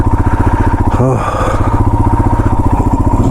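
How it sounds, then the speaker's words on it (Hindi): A big motorcycle engine chugs in a loud, steady throbbing rhythm while skidding on black ice on a mountain road, with a brief higher revving swell midway and someone speaking over it. "बड़ी बाइक स्किड हो रही है"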